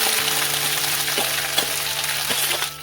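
Okra (lady's finger) fries in a pan with red chillies, a loud, even sizzle with soft, regular knocks of stirring over a low steady hum.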